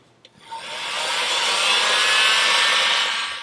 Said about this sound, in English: put a bit of heat shrink over the two of them, put the heat gun on it, seal it off